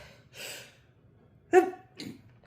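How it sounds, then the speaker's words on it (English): A sharp intake of breath is followed by a single abrupt sneeze and a softer breathy exhale. "now I feel like I'm going to sneeze."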